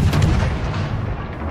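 A torpedo striking a ship in a naval warship video game, a loud, close, rumbling boom that rolls on through a short burst with no voices over it.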